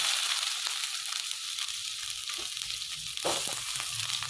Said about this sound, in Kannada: ಈಗ ಈರುಳ್ಳಿ ಹಾಕ್ಕೊತಾ ಇದ್ದೀನಿ.